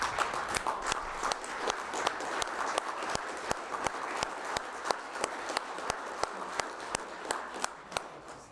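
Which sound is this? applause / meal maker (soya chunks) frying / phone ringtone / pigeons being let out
applause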